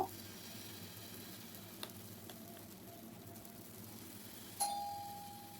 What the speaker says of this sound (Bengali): আমি আবারও তিনটে ভেজে নেব